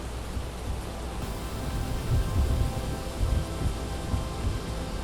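Steady rain rushes with a dense, even hiss and low rumbling underneath, in the dark during field seeding, a constant wash with no voices.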